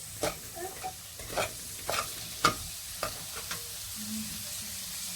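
A paneer mixture with onions and salt sizzles softly in a pan while a spoon stirs it, a faint steady fry punctuated by several distinct scraping strokes, close and quiet with no talking.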